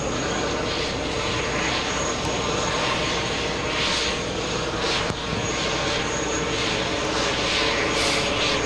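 An airliner taking off at JFK airport gives a loud, continuous engine roar with a whining tone, steady throughout at close range, with no talking.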